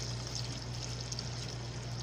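Water poured from a container onto dry soil around a newly planted papaya cutting, a steady continuous splashing pour that runs throughout at moderate, even loudness with no voices.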